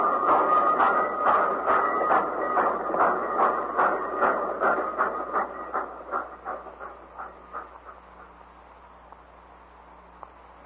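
Radio drama effect of a train running on rails, with a rapid rhythmic clatter of wheels over rail joints that starts loud and fades into the distance while a faint hum remains.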